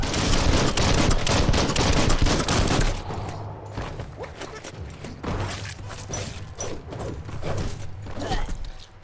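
Rapid gunfire in the action game Biomutant, dense loud volleys of shots for the first few seconds, then scattered sharp bursts and impacts continuing at a lower level.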